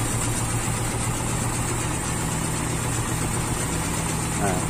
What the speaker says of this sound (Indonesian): Nah, suaranya itu suara knalpot ya.